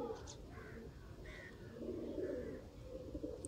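A pair of Indian pigeons cooing close by, soft repeated low throaty coos in a slow rhythm, over a faint background.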